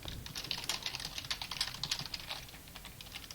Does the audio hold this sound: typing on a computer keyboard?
yes